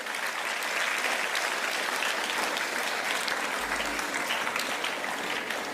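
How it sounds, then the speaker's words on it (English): Sustained, even applause from an audience at a school felicitation program welcoming a guest, a dense wash of many hands clapping at a steady level throughout, with no voices standing out. "let's give a round of applause to welcome him."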